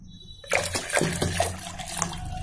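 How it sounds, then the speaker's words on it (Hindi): Cold water pours into a jug of shikanji lemonade, a steady splashing gush that starts abruptly after a brief quiet moment and runs on close and fairly loud. "इसमें डालेंगे हम ठंडा पानी चार गिलास शिकंजी बनाई हमने थोड़ा सा और डालेंगे पानी"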